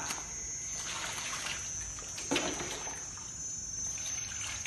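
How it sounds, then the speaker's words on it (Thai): Hand-washed clothes are rinsed in scooped water, giving a steady, close trickling and sloshing with one brief louder splash midway and no voices. "คุณครูก็จะตักน้ำนะครับล้างประมาณ 2-3 น้ำนะครับจนกว่าผ้าจะสะอาดนะครับ"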